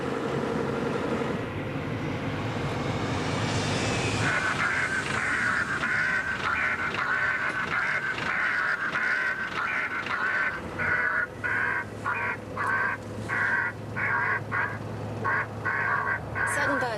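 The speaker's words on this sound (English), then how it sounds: "So I played a recording of a distressed rook." Outdoors at an airport, a recorded rook distress call is played to scare birds: harsh, repeated cawing squawks in a rapid broken series over a steady background hum, with some early noisy, unclear activity before the calls begin.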